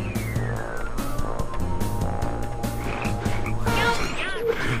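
Loud, dense frog croaking from the Tasty Blue game, repeated rough calls layered over game music, with a rising sweep toward the end.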